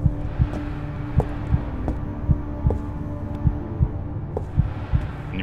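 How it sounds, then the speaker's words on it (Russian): Heartbeat in the first-person indie horror game Panic, a steady, low, thudding pulse of about a dozen beats over a faint droning hum, with no voices. "Сердце бьется."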